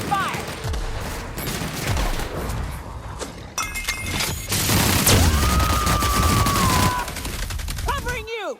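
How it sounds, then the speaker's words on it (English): Rapid bursts of gunfire and sharp impacts ring out in the sci-fi shooter The Outer Worlds: Spacer's Choice Edition, loud and dense, mixed with shattering noises, a rising electronic whine and game voices. "Opening fire!"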